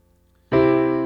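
Basic block chords played on a keyboard, a single sustained chord struck suddenly after a short near-silence and ringing on loud and clear.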